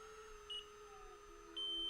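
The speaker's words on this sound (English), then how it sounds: "And there goes my timer." A timer in the RealFlight 9.5 flight simulator gives two short, thin electronic beeps, the second one longer, faint over a low steady hum.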